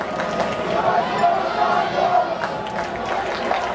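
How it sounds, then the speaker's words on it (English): Home fans at a Brooklyn Cyclones minor league baseball game against the Staten Island Yankees, raising a loud, sustained crowd chant with shouting voices blending into a continuous roar. "I'm hearing a Cyclones chant."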